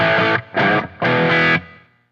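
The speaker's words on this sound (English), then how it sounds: "That's that OCD, man. It's a great little dirt pedal." An electric guitar is played through a Fulltone OCD overdrive pedal with a gritty, dirty tone: three loud distorted strummed chords, the last ringing out and fading.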